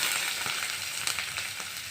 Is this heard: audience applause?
no